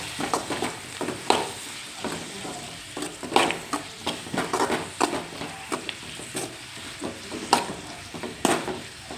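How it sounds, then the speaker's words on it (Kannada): Carrots frying and being stirred in a pan on a home stove, with steady sizzling under repeated scraping and stirring strokes, close and fairly loud, no talking. "ಕ್ಯಾರೆಟ್ನ ಹಾಕ್ಕೊಂಡು ಅದು ಜೊತೆಗೆ ಸ್ವಲ್ಪ ಹಸಿ ವಾಸನೆ ಹೋಗೋ ತನಕ ಹುರ್ಕೋಬೇಕು"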